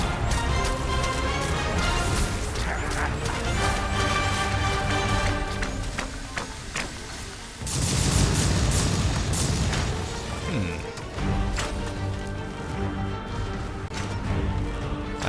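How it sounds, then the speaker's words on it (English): Heavy explosions in the video game Dragon's Dogma II, with deep booming blasts and crashing bursts over a dense battle and music backdrop, loud and repeated. "explosion"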